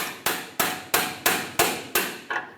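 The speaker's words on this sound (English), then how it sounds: "Take that pry bar, hammer it in here." A pry bar is hammered into a rusted tie rod adjusting sleeve on a Ford E-350 Super Duty: seven sharp metallic strikes at an even, steady rhythm, loud and close, with no talking.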